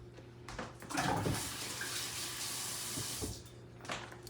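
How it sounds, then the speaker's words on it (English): A kitchen tap runs steadily as hands are washed during cooking prep, a close, continuous splashing stream with slight shifts as the hands move under it. "Wash your hands."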